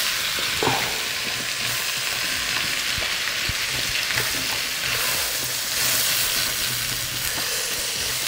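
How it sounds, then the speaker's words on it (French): Vegetables and mushrooms sizzling in a pan for an osso bucco, a steady bright frying hiss with occasional clicks and scrapes of stirring, close and continuous. "Une fois qu'on a fait revenir un petit peu ces légumes, on va ajouter les champignons qui ont besoin de moins de cuisson."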